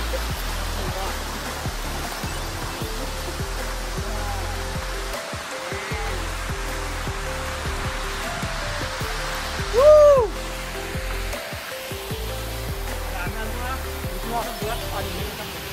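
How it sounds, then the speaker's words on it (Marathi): A steady, continuous rush of falling water from a small waterfall at Asnas Dam in the Sahyadri hills, close by, with a brief louder splash or call partway through. "छोटा धरण आहे, धबधबा आहे छोटासा त्याच्या पुढे"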